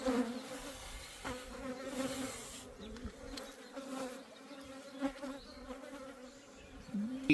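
Honey bees buzz around a homemade hive built from scrap materials, with frames held on boards inside; a steady, dense drone of many insects continues throughout, with individual bees flying close by now and then.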